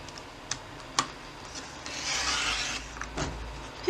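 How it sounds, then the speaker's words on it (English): Paper being trimmed for a vintage lemon-themed flipbook, soft close rasping cuts with a few sharp clicks and one longer scraping stroke, no talking. "I might actually just trim that while I'm at it."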